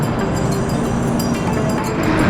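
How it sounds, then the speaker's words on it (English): A bullet train bound for Tokyo gives off a loud, steady, close roar of rushing noise and rumble that holds at full strength throughout, with no voices. "catching the bullet train to Tokyo"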